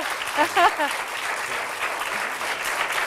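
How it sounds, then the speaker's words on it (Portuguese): A studio audience on a Portuguese television talk show applauds steadily for about three seconds, with a brief voice heard near the start. "quero um aplauso para o nosso doutor"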